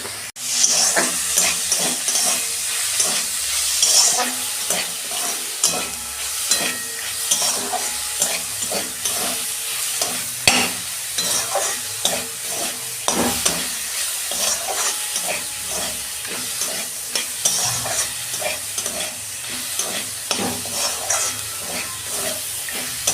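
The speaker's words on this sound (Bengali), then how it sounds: "আমার কত সুন্দর ভাজা হয়ে গেছে লাল শাক" Red amaranth leaves stir-fry in a pan with peanuts and a little sugar, giving a continuous loud sizzle and hiss with frequent scraping stirs throughout, and no voices.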